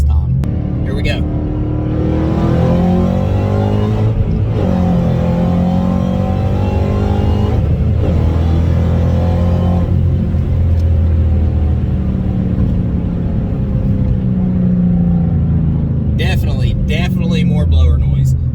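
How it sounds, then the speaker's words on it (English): A Ford GT500 with its intake resonator removed accelerates hard in second gear, the engine droning and rising steadily with a high supercharger whine over it, with brief dips at the gear changes, heard from inside the car. "Definitely more blower noise."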